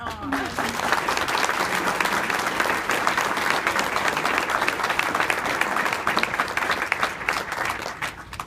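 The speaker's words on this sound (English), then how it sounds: "she deserves a round of applause." Audience at a pro-life banquet breaks into sustained applause, a dense, steady wash of clapping that stays loud and close for the whole stretch, with faint voices mixed in.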